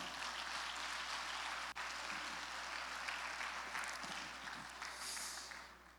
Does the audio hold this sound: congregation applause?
yes